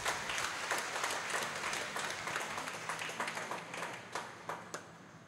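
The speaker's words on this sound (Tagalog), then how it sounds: "So bigyan natin mahal na ina isang malakas na palakpak." A church congregation at a Mass for the Immaculate Conception claps, a dense wash of applause that slowly thins into scattered distinct claps toward the end.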